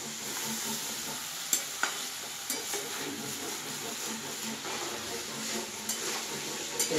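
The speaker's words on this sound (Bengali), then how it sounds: "যে জল দিয়ে দিয়ে ভাজছি।" Food fries in a pan with splashes of water added, a steady sizzle running throughout while a utensil stirs and scrapes with a few sharp clinks against the pan.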